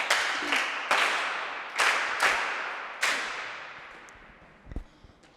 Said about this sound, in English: You deserve a 3-star clap.